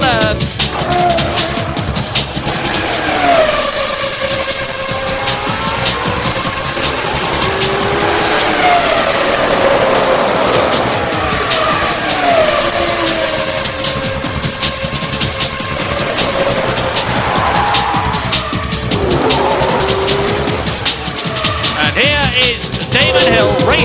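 Formula 1 cars from the 1996 Grand Prix season race and overtake, their high-pitched engines wailing and shifting continuously and loudly throughout, with tyre squeal and a commentator talking over the racing.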